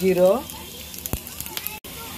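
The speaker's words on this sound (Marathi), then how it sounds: "जिरं चांगलं तडतडलं" Cumin seeds crackle in hot oil in a kadhai on a gas stove, quick scattered pops over a hiss, after a brief voice at the start.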